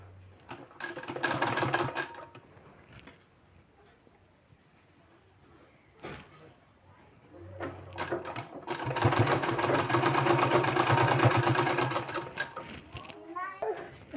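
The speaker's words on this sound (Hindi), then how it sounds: "इसको इस तरह से फोल्ड करके इसमें सिलाई लगा लेना है इस तरह से।" A sewing machine stitches palazzo pants fabric in two steady whirring runs, a short one and then a longer, louder one, close by, with someone speaking in the quieter gaps.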